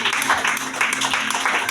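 A church congregation claps for Jesus during a Swahili prayer service, steady dense applause with a voice faintly over it.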